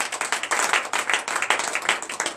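A church congregation at a Sunday worship service clapping and applauding loudly and close, with uneven bursts of hand claps, no voices.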